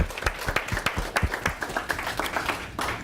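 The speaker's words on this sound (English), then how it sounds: "I want everybody to give themselves a round of applause" An audience at a morning coffee-and-commerce networking gathering claps briefly and fairly quietly, with scattered, uneven hand claps over a few seconds.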